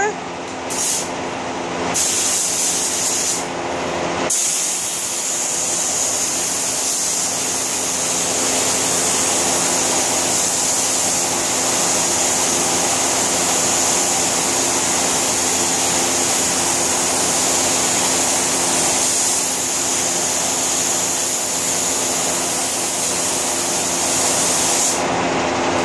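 A spray gun lays lacquer onto an Ethan Allen table in a refinishing shop, a loud, continuous hiss that runs almost unbroken from start to finish after a few brief opening bursts.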